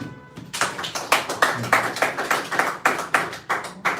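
Audience applause at a French business presentation, a crowd clapping steadily and fairly close, with a dense run of overlapping claps and no pause.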